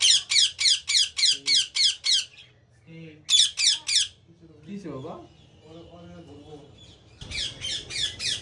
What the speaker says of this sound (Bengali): এখানে যে টিয়া পাখিটার আওয়াজ পাইতেছেন